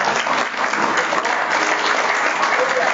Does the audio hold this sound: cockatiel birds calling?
no